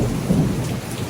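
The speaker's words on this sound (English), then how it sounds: "So we got thunderstorms this morning" A morning thunderstorm pours steady, loud rain, while a deep thunder rumble rolls beneath the constant hiss.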